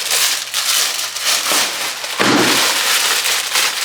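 A heavy plastic tarp used for collecting leaves is pulled open, giving a loud, continuous crinkling rustle with one sharper surge partway through. No one speaks.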